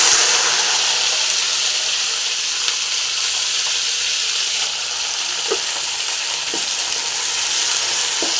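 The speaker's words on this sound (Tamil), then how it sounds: "இப்போ இந்த கோவக்காயை ஃப்ரை பண்ணிக்கலாம்." Ivy gourds fry in a pan with a steady, even sizzle and soft hiss, broken by a few faint stirring clicks, heard alone without any talk.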